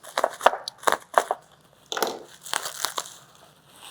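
Packing material crinkles and crunches as a delicate vintage Hendryx fountain bird cage is unwrapped, with bursts of close, sharp rustling separated by brief pauses and no voices.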